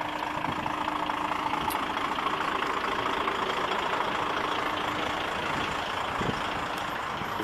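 Many trucks idle at a Shell filling station, their engines forming a dense, steady mid-range drone with faint beeps and a couple of brief clanks over the top.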